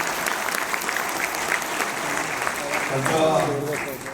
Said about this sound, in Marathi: टाळ्या वाजून आपण त्याचं या ठिकाणी स्वागत करूया